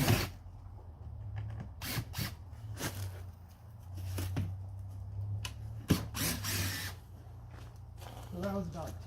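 Power drill undoing screws on a 60W JPT MOPA fiber laser engraving machine, several short, fairly quiet whirring bursts separated by pauses, with people talking in between.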